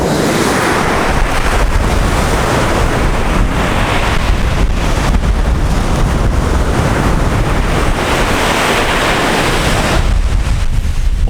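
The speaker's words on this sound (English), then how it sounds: "Open ocean beach always gonna be my priority" Open-ocean surf rolls onto a beach under steady wind that buffets the microphone, a continuous loud wash of breaking waves with no voices.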